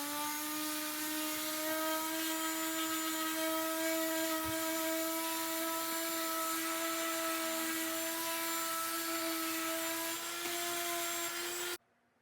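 A power sander works over wooden chair parts at 120 to 220 grit, holding a steady, close, high-pitched whine for about twelve seconds before cutting off abruptly at the end.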